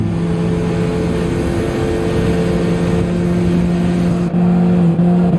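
A race car launches in Gran Turismo 7 during a Nürburgring endurance race, with a loud steady engine drone and layered mechanical tones holding throughout, alone without talk.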